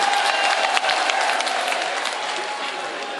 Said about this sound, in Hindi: एक बार जोरदार तालियों से इस बच्चे की हौसला अफजाई कीजिए दोबारा